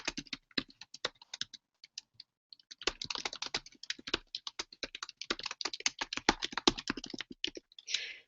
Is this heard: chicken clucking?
no